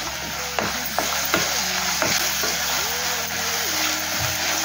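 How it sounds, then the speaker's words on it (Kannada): Soya bhurji with capsicum frying and being stirred in a kadai, a close, continuous sizzle broken by repeated scraping strokes of a spoon, with no one talking. "ಇನ್ನು ಕ್ಯಾಪ್ಸಿಕಮ್ ದೊಣ್ಣೆ ಮೆಣಸು ಹಾಕ್ತಾ ಇದ್ದಾನೆ ಸ್ವಲ್ಪ ಫ್ರೈ ಅದು ಸಾಕು"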